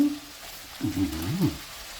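Holy basil leaves being stir-fried and tossed into meat in a hot wok, a soft sizzle broken by two short scraping stirs.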